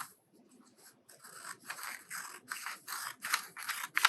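Scissors snip through paper with a run of quick, crisp cuts in an uneven rhythm, close and fairly quiet, with no talking.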